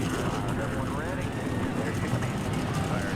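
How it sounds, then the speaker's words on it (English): A field of NASCAR stock cars firing up and idling together in the NASCAR Racing 2003 game, a dense steady engine rumble throughout with occasional revs, under a commentator's voice. "19 cars fire their engines up"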